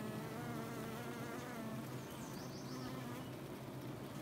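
Honey bees buzz thickly at a beehive in June. It is a close, continuous swarm drone with overlapping wingbeat tones and no pauses.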